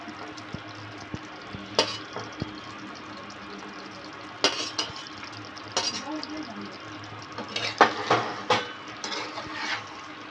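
Duck eggs go into a hot pan and start cooking, with bursts of sizzling and clinks of a utensil stirring against the pan, louder toward the end, while a voice talks at times.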